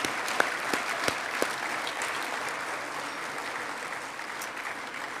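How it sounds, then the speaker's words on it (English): At the 2025 American Quarter Horse Hall of Fame Induction Banquet, a large audience applauds the inductees with a sustained, even roar of clapping and a few sharp claps standing out near the start. "Let's give one more round of applause for our class of 2025 Hall of Fame inductees"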